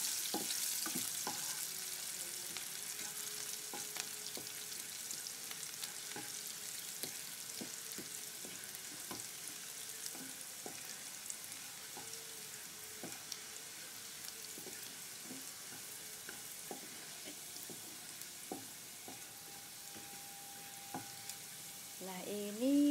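Shallots browning in a pan for a stir-fried water spinach with shrimp paste dish give off a soft, continuous sizzle, with scattered faint clicks and a brief louder clatter at the end.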